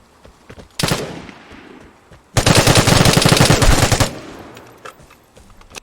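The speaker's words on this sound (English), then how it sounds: "But he started shooting at me, so" Gunfire exchange in the video game Vigor: a short burst of shots, then after a pause a loud, sustained rapid machine-gun string lasting nearly two seconds, close and sharp, fading into quieter ambience.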